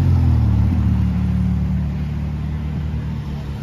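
Rush-hour traffic in Monaco rolls past up close, a continuous low engine rumble from passing cars that fades slightly toward the end.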